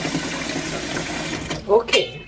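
Tap water running briefly while rinsing out a pumpkin, a steady close gush that stops after about a second and a half, followed by a short burst of speech.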